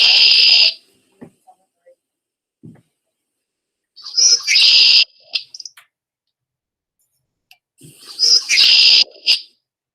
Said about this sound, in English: Everybody good on the red-winged blackbird?